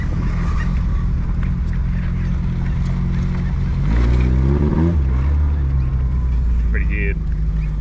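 A Holden VH car idles, then its engine revs up briefly and pulls away into a drive, a loud close rumble heard from inside the car with a short squeak near the end.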